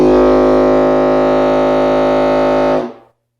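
A homemade pipe fog horn blowing one loud, steady, deep droning blast that holds for nearly three seconds and then cuts off abruptly into silence.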